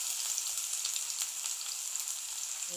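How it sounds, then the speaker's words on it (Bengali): Chopped onions sizzle steadily in hot oil, a close, even crackling hiss with no voices. "পেঁয়াজটাকে ভালো করে নেড়ে চেড়ে সুন্দর করে আমার পেঁয়াজটা ভাজা হয়ে গেছে"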